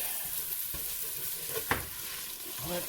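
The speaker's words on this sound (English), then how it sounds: "So we're just gonna saute this" Ingredients for pork nilaga soup stirred and sautéing in a hot pan, a steady close sizzle with a few scraping stirs of a utensil.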